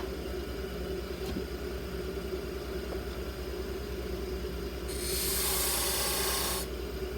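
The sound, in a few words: skew chisel turning a wooden foot on a lathe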